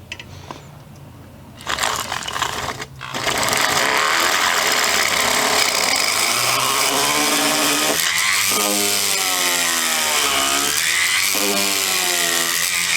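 A power drill bores a hole into the lower tang channel of a wooden gunstock, with a loud, close whine that starts, briefly revs, then grinds steadily with pitch dips as the bit bites into the wood.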